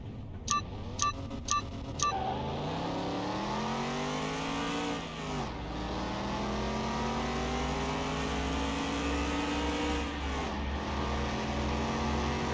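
A Mercedes-Benz fitted with mufflers races in Car Mechanic Simulator 2021, its engine revving up in long climbing sweeps and dropping briefly at gear changes, after a few short electronic beeps at the start.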